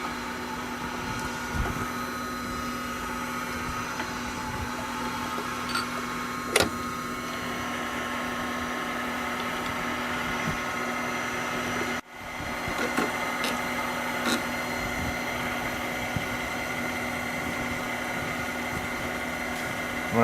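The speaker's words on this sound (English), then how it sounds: "When I'm grinding this, I need to keep the valve moving back and forth so that my stone wears evenly" A valve seat grinding machine set to 55 degrees grinds an engine valve against its stone, giving a steady, close motor whine with a sustained tonal hum, interrupted by a brief click and a short dip midway.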